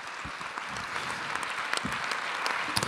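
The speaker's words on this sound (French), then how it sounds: "vous pouvez applaudir à la fois Xavier, Cédric" An audience in a hall applauding the speakers, a steady wash of dense clapping from many hands, sustained and even throughout.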